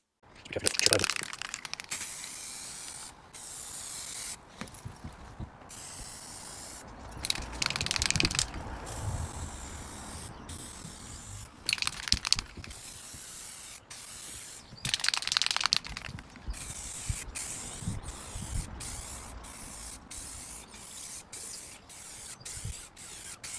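Repeated hissing bursts of aerosol sanding sealer sprayed onto a guitar, short blasts separated by pauses, up close, with people talking and a faint rattle between sprays.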